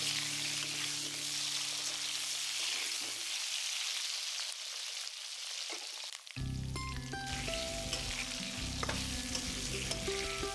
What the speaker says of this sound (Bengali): মিনিট দুই ফোড়ন ভাজা হলে আলুগুলো দিয়ে ভাজবে